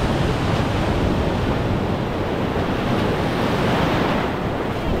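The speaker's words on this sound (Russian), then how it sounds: "Давай, там такая волна, Стейшн, вставай." Sea waves breaking on a beach during a storm in Thailand, a loud, continuous roar of surf with heavy wind buffeting the microphone, no talk.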